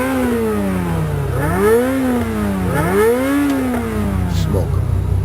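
A Lamborghini Murcielago engine revs up twice in rising, whining sweeps that fall back between pulls. The car is close and loud, and a few voices can be heard faintly around it.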